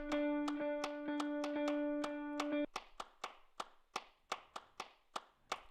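Sampled hand claps from a Drum Lab virtual instrument, a crisp regular sequence of single claps, the first group layered over a sustained tonal chord, then drier claps alone with short decays.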